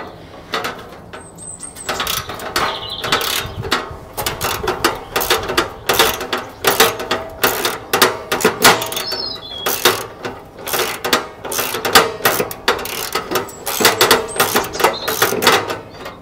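A small socket wrench loosens little brass bolts on the tank of an Aladdin Series 22 greenhouse paraffin heater, making close, rapid ratcheting clicks in irregular bursts throughout.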